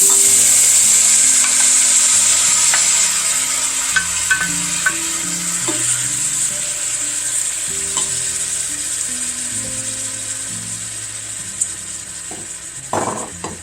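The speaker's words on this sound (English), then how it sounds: "And what we want to do now is cook these tomatoes down." Fresh Roma tomatoes sizzle steadily in a hot pan with light stirring and a few utensil clicks, a continuous close frying hiss with no talking.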